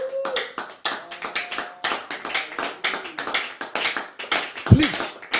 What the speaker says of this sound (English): Clap your hands and give Jesus glory.